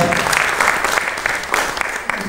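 Audience applause at a creative evening honouring a poet, a busy patter of many hands clapping with distinct sharper claps rising above it, fairly close and lively.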